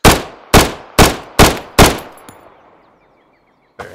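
Five sharp, loud gunshots from a firearm in the shooter Road to Vostok fire in a steady rhythm, each with a short decaying echo, followed by a faint mechanical click and one more distant shot.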